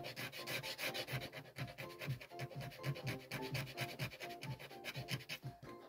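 An eraser scrapes back raised paper fibres on a drawing, giving a quiet, continuous rubbing with quick back-and-forth strokes, close up and faint, with no voices.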